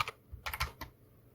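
A short burst of keystrokes on a computer keyboard while typing a Javadoc comment in Java code: about five or six quick, close taps within a second, then quiet.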